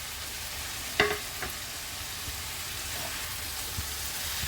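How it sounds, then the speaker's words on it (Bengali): Cubed potatoes, carrots and capsicum sizzle steadily in a hot pan, with a clatter of the spoon as they are stirred in at the start, then a continuous close frying hiss. "এই পর্যায়ে আমি আলু আর গাজর সাথে যে ক্যাপসিকামগুলো কেটে রেখেছিলাম সবটাই অ্যাড করে দিলাম।"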